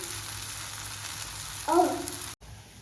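A chickpea-flour pancake (besan chila) fries on its second side, giving a steady, faint sizzle that swells briefly into a louder hiss before cutting off abruptly.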